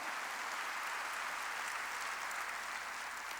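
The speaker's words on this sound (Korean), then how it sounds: "박수로 하나님께 영광 돌려야 될 거 아니에요" A church congregation at a Korean worship service applauds loudly and continuously, a dense wash of clapping filling the room with no talk over it.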